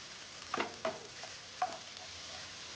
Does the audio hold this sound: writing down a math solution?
no